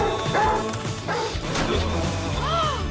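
Several sharp dog barks and yips ring out close by in a busy, noisy household scene, mixed with music and clattering sounds.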